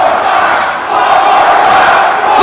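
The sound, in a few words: wrestling crowd of fans cheering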